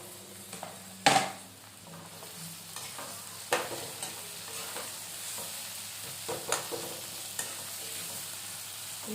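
Green chillies and curry leaves crackle in hot oil, a quiet ongoing sizzle broken by sharp pops and spatters, one loud burst near the start and smaller ones later.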